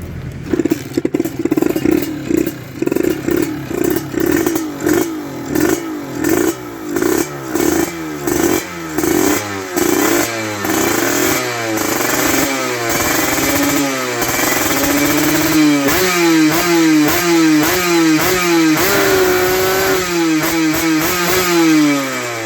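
Kawasaki KR150 two-stroke motorcycle with a tuned engine and 30 mm carburetor revving repeatedly, loud and close, sharp throttle blips rising and falling in quick bursts, then longer sustained high revs with a rattling clatter.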